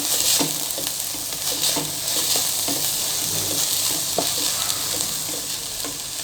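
Tomatoes sizzle and sauté in a hot pan, with repeated scraping and stirring strokes over a constant frying hiss.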